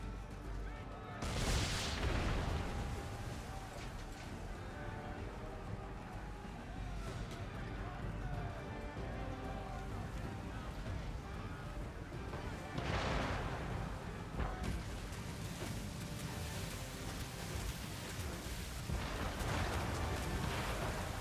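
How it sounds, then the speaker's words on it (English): Mortar fire and booming naval cannon in Assassin's Creed 3 during a ship battle at sea, heavy blasts rolling over a constant roar of wind, waves and combat, with a voice shouting over the din. "Steer away from them! Mortars!"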